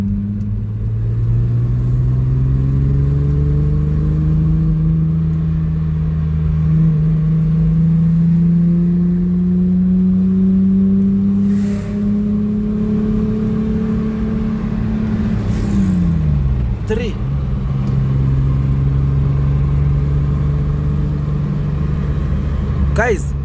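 A VR6-engined car pulls hard through the gears with a loud, steady engine drone that climbs in pitch, drops sharply at a shift near the end, then pulls again, heard from inside the cabin.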